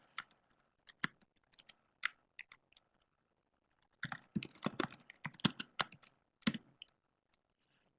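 Keys tapped on a computer keyboard while entering simple command-line arithmetic, a few isolated clicks early on, then a dense burst of quick typing strokes and one final keypress, close and fairly quiet with no talking.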